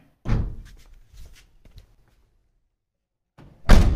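A hard, sharp thump as a 2003 Maruti 800's window or door shuts, then quiet clatter, and a second loud slam near the end.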